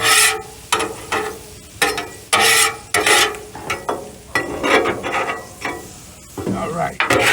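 Shrimp and chicken fried rice scraped and tossed on a flat-top griddle, with repeated loud metal spatula scrapes in uneven bursts over a steady close sizzle.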